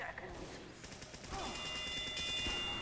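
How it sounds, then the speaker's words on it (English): Gunfire in Team Fortress 2: a quiet spray of rapid shots ramps up halfway through into a louder, sustained burst, with game effects mixed in. "Who is shooting me?"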